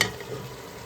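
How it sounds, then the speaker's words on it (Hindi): Meat frying in a pan with ginger garlic paste for Lahori harissa, a brief, steady close sizzle with a faint stir at the start. "तो ये गोश्त हमारा फ्राई हो रहा है"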